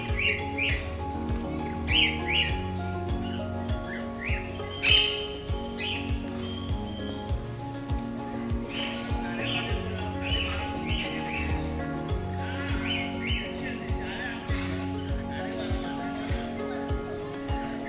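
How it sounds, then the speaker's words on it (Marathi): Birds at the Karnala bird sanctuary, a forest reserve, chirp and trill in repeated bright bursts over a steady background drone, with someone talking throughout. "जवळजवळ 140 पेक्षा जास्त स्थानिक प्रजाती इथे आहेत पक्ष्यांच्या"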